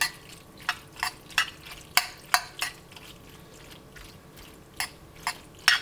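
Hot mac and cheese noodles mixed in a pot: a steady series of wet, squelching stirs with sharp spoon clicks against the pot, close and moderately loud, repeating every half second or so.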